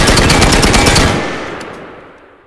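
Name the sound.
fully automatic gunfire from a rifle in a video game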